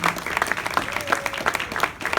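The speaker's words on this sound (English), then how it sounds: "Let's give them a round of applause again" Applause for graduates at a speech, a short patch of moderately faint crowd clapping with distinct individual claps and some voices beneath.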